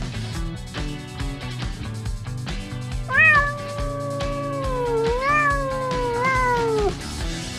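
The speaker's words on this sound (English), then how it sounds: "Yeah, it's a cat." A cat gives several loud, close meows with rising and falling pitch, one after another, over a quiet background.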